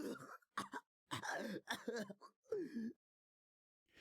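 A run of close, rasping coughs and strained gasps from the video game Chaos;Head Noah, in short bursts, separated by brief pauses of silence.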